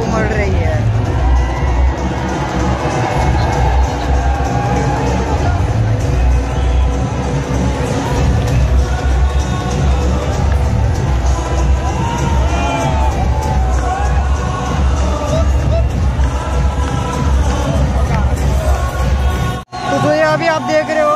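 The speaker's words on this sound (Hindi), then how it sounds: "तो ये आप देख सकते हो कि मतलब भीड़ किस तरीके से नीचे उमड़ रही है।" A huge crowd cheers, whoops and shouts at the Wagah border ceremony between India and Pakistan, a loud continuous roar of voices with music and chanting mixed in, cutting out briefly near the end.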